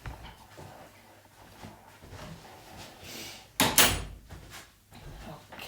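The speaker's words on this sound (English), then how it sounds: "I'm just going to shut the door." A door being shut in a room, one sharp loud thud with a brief rattle that stands out against quiet background noise, followed by faint knocks.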